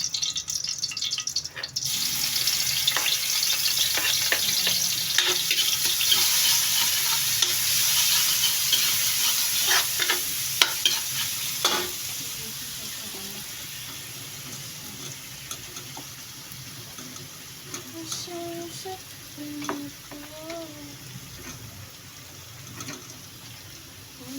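Onion, tomato and garlic sizzle steadily in a frying pan as they are sautéed, with scraping stirs and clinks of a utensil throughout. The frying fades gradually toward the end.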